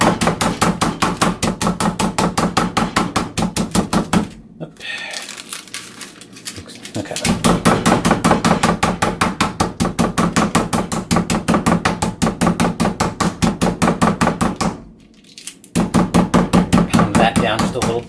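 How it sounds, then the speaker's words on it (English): Chicken is pounded with a mallet to about half an inch thick: rapid, loud, evenly spaced thumps in long bursts, with two short pauses between runs. "I want to pound these with a mallet until they're about 1/2 inch thick."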